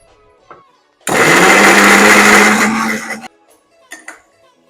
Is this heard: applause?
no